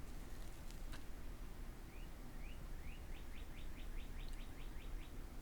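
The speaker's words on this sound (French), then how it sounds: "j'entends les petits oiseaux à l'extérieur. J'adore le son, le chant des petits oiseaux." Small birds sing outdoors, faint and distant, with a series of short rising chirps repeating in quick succession over steady background hiss.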